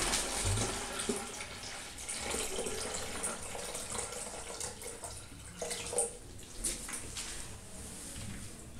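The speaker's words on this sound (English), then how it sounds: "Okay, let's add more water." Water pours into an underground tank fitted with a level indicator and alarm, a steady faint splashing and trickling that runs the whole time with small gurgling bursts, heard alone without talk.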